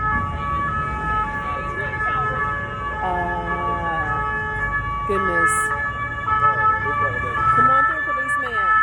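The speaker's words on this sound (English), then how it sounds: "Excuse the sirens." Emergency vehicle sirens wail through busy Paris street traffic, their rising and falling tones sustained over a steady road rumble, with a person talking briefly over them.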